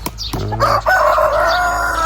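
A rooster crows loudly and drawn out, with Andijan black chickens clucking close by in a farm pen and a brief flutter at the start.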